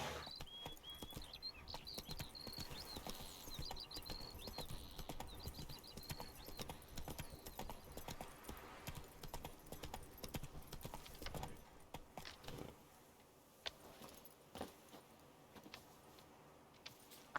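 Roach, Geralt's horse in The Witcher 3, clip-clops along in steady rhythmic hoofbeats for most of the stretch, fairly loud and close, then fades to quieter scattered steps toward the end.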